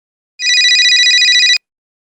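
A cell phone rings with a bright electronic trill, loud and close, lasting about a second before cutting off abruptly into silence.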